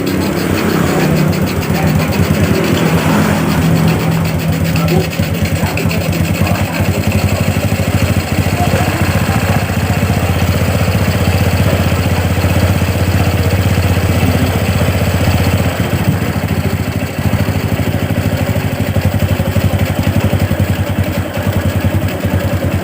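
Rebuilt Honda Revo Absolute motorcycle engine idling smoothly, a steady, continuous low mechanical hum heard up close and unchanging throughout, with faint background noise but no clear talk.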